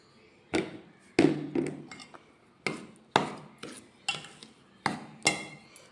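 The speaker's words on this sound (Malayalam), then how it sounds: "ഇത് നമുക്ക് നല്ലോണം ഇളക്കി യോജിപ്പിക്കാം" Batter being stirred and mixed in a bowl after rice flour is added, for a ripe jackfruit snack: a series of sharp utensil scrapes and clinks against the bowl in irregular bursts, close and fairly loud, with no talking.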